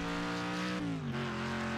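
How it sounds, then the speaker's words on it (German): A car in the racing game Wreckfest revving and pulling away in first gear, a steady engine drone that shifts pitch as it accelerates, heard alone with no talk. "Schön den ersten Gang reinknüppeln und losfahren."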